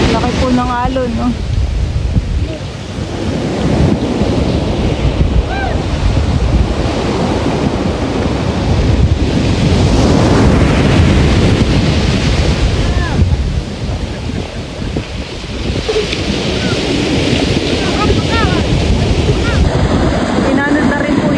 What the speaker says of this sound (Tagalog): Laki po ng alon, no?